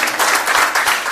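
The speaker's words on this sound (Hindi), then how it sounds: "आप लोग तालियां बजाइए इनके लिए, अपने बॉस के लिए" Dense audience applause fills a hall at a leadership event in India, a steady, loud wash of many hands clapping with no voices rising above it.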